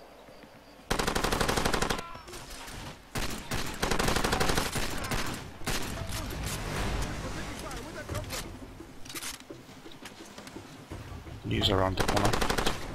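Bursts of rapid automatic gunfire from a gun in Far Cry 2 during a nighttime assault, loud and close, firing in long sustained volleys with brief gaps, while a voice speaks briefly between shots.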